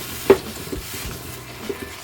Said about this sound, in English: all I'm doing right now is stirring until all this liquid is gone